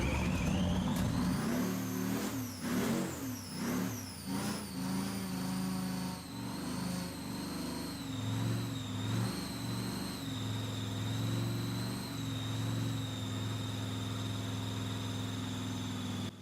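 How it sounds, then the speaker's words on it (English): A KrAZ heavy truck fitted with a tank engine cranks and catches after nearly 30 years unused, revving unevenly at first before settling into a loud, steady rumbling idle with a high whine above it. "workers at the Kremenchuk truck plant start its engine for the first time"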